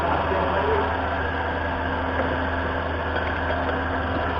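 An MTZ-82.1 tractor diesel engine idling, with a steady low rumble and even vibration held at constant loudness throughout, close to the microphone with no break.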